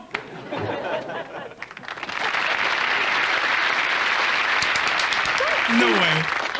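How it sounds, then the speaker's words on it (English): Sitcom studio audience applauding, a dense, steady wash of clapping that swells after a couple of seconds and holds loud to the end, with a brief voice near the close. "Nah, they're applauding"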